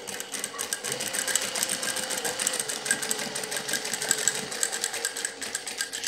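A sewing machine stitches a diaper-cover panty in a steady, close, rapid whirring hum, with the needle ticking continuously and no pauses or talk.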